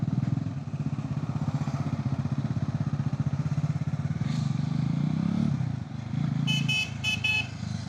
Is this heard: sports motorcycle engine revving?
yes